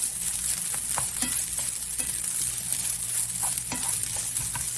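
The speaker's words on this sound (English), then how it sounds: "And now we're just gonna mix all that back together. All of that garlic." Steady sizzling of garlic fried rice being stirred in a hot pan, with a constant bright frying hiss and soft scraping, spatula taps throughout, close and continuous with no talking.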